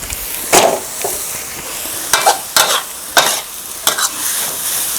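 Chicken and glass noodles stir-fried with holy basil leaves in a hot pan, a steady sizzle broken by several sharp scraping strokes of the spatula at irregular intervals, with no talking.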